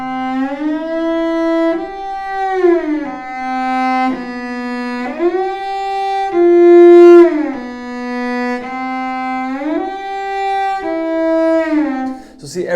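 Solo cello played with slow, heavy shifts between notes and pronounced sliding glissandos, sustained bowed tones rising and falling in pitch across the phrase, close and clear with no talking.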